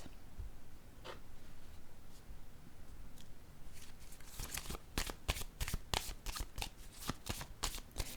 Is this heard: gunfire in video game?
no